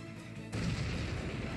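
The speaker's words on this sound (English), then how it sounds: "Because with all this cannon fire, we're going to need all the experience we can get." Cannon fire in the video game Bravely Default, a dense, continuous rumble of heavy booms and crashes that swells after a moment, loud and without talk.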